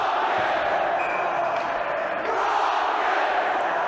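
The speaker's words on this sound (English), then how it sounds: "Rockets crowd getting into it here" A crowd in a high school rink roars and cheers during a varsity boys' hockey game against Braintree, with a steady, loud wash of voices that carries throughout. Faint talk may sit under the crowd noise.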